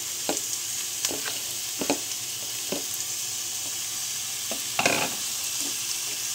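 Minced pork fries in a pan with a steady hiss. A utensil scrapes and clatters now and then as it stirs, and a louder scraping burst comes near the end.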